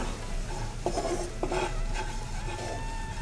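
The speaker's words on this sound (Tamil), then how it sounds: "இப்போ இந்த நெய்லேயே அரை கப்பு கோதுமை மாவு இதை சேர்த்து நல்லா வறுத்துக்கலாம்" Wheat flour roasting in ghee in a pan on a slow flame, a soft continuous sizzle with a spoon scraping and stirring, a few light metallic clinks of utensil against pan, close up with no talking.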